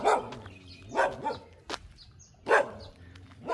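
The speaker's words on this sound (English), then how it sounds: "So, man, I see a dog." A dog outside a gate barks in a few sharp, spaced bursts at moderate distance, with quiet gaps between the barks.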